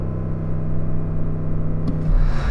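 Audi RS6 performance model engine held against its soft limiter at 4,000 RPM, a steady mid-low rumbling tone with a brief crackle near the end, close and fairly loud, no talk.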